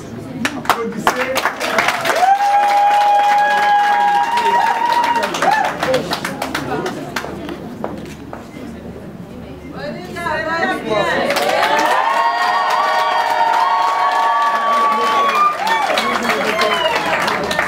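Guests at a Congolese civil wedding ceremony applaud and cheer in a loud, lively burst of clapping and shouting, which dips briefly midway and then surges again with high whoops.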